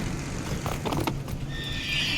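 A horse in the video game Far Cry 6 neighs and whinnies amid the clip-clop of hooves, loud and close over a constant game-engine background rumble.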